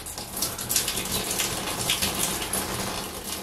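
Shower water pours steadily inside a compact Nightjet sleeper cabin bathroom on the Innsbruck to Düsseldorf train, a close, continuous hissing spray with no talking.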